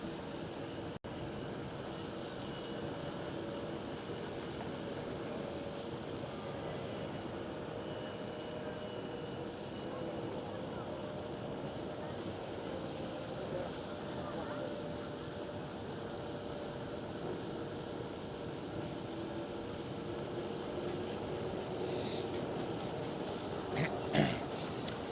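Aircraft engines at Amsterdam Schiphol Airport, where an A330 waits on the Kaagbaan runway, produce a steady, continuous roar that holds at an even level, with a slight swell near the end.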